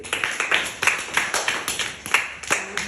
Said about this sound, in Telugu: సగం చెప్పినందుకు చప్పట్లు కొట్టండి